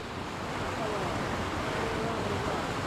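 The Xiblu waterfall on a snowy hiking trail in Asturias gives a steady, broad rushing roar of falling water that fills the whole scene without a break.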